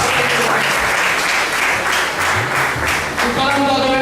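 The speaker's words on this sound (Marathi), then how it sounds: "कृपया या गोष्टीवर खरंच टाळ्या झाल्या पाहिजेत." An audience at a student awards ceremony breaks into loud, sustained applause with dense clapping throughout, and a voice briefly comes through near the end.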